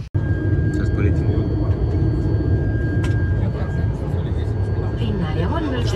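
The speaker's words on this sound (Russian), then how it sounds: "Вот такой маленький-маленький самолет." Steady loud engine drone fills the cabin of a small passenger airplane before takeoff, a constant low rumble throughout with a faint whine above it, while people talk over it.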